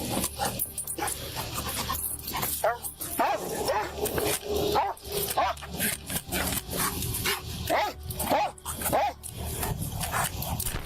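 A police sniffer dog barks repeatedly around a stopped car, sharp barks and yips in an uneven series, loud and close, with other noise and possible voices mixed in.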